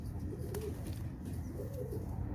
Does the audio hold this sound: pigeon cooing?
yes